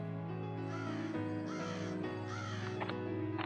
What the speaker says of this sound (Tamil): என்ன காக்கா கத்துது